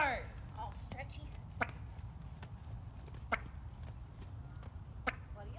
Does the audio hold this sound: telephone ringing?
no